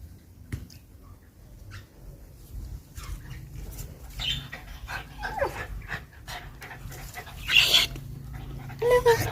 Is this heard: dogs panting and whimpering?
yes